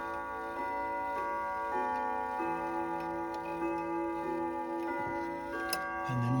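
A King Arthur Clock Company grandfather clock chimes inside its wooden case, with sustained ringing bell tones layered over steady ticking, closing on a single deeper strike for the hour; moderately quiet and close.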